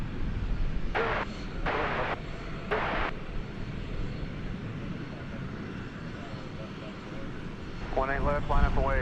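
An airliner takes off from runway 18 Left at DFW Airport in the evening: a steady, broad, distant roar runs throughout, broken early by three short radio voice bursts and a cluster of chirpy calls near the end.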